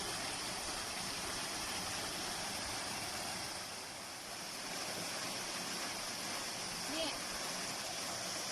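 Small trickle of water in a nearly dried-up stream, a steady, soft, continuous hiss of flowing water with no distinct splashes, heard alone.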